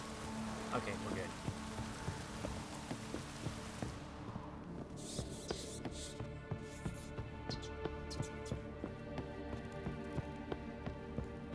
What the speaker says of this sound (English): Ah, it's raining now.